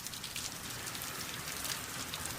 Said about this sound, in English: Can you get an extreme close-up of water hitting the capstone?